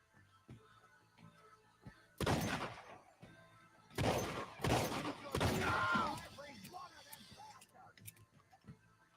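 A shotgun firing slugs in Red Dead Redemption 2 booms in three or four heavy blasts spread over several seconds, with a voice talking quietly around them.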